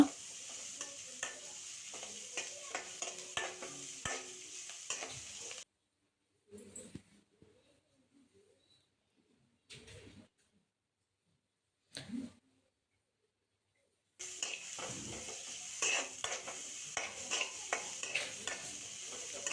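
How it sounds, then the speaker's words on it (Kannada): Chopped onions and green chilies fry in a pan for mint rice and are stirred with a spatula. A close, steady sizzle comes with scraping and clinking, then breaks off into near silence with a few scattered sounds before the frying comes back. "2 ಕಟ್ ಮಾಡ್ಕೊಂಡಿರುವಂಥ ಈರುಳ್ಳಿ, 2 ಕಟ್ ಮಾಡ್ಕೊಂಡಿರುವಂಥ ಕಾಯಿ ಮೆಣಸನ್ನು ಹಾಕಿ ಈರುಳ್ಳಿ ಕಲರ್ ಚೇಂಜ್ ಆಗೋವರೆಗೆ ಇದನ್ನು ಫ್ರೈ ಮಾಡ್ಕೊಳ್ಳುವ"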